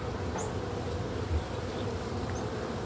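Honey bees buzz in a dense, continuous drone during a winter beehive inspection, the swarm sound close and steady with occasional individual bees zipping past.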